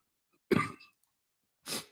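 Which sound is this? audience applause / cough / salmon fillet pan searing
cough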